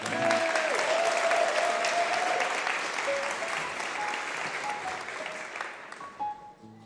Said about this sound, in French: Allez, on l'applaudit, on l'encourage.